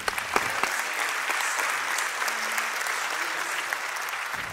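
An audience at an all-employee college convocation applauds warmly to welcome a speaker, a steady wash of clapping from many hands that stays even and sustained from start to finish.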